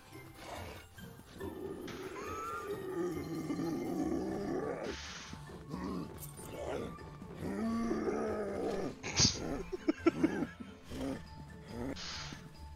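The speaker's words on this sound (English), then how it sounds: "What's the growling?" Creature growling in the video game Granny Simulator comes as rough, throaty rumbles in uneven bursts, rising and falling over several seconds, with sharper snarls near the end.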